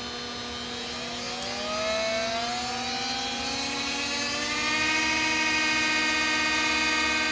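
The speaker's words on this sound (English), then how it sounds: "turn the RPM up on the motor" An electric motor on a rotary commutator rig whines steadily and climbs in pitch as its speed is raised, a clean rising tonal hum with no voices.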